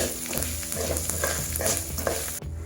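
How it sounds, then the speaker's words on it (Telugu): Mustard seeds and coriander seeds fry in hot oil for a ginger pickle, a close steady sizzle with light stirring scrapes before it cuts off abruptly, no talking. "ఆవాలు ఇలా వేగడం మొదలైన తర్వాత ఇందులో ఒక 4 స్పూన్ల ధనియాలు వేసుకొని మరి కొద్దిసేపు వేపుకోవాలి"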